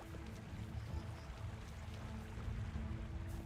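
Water in a creek in the Kingdom Come: Deliverance video game flows and splashes steadily, a continuous low churning wash with a faint hum underneath and no speech.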